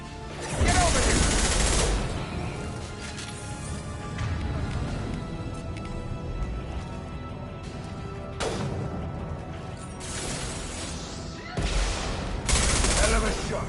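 Gunfire in the video game Mass Effect 2: loud bursts of shots cluster at the start and end, with steadier rattling combat noise filling the middle.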